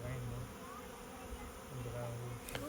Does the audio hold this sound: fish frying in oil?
no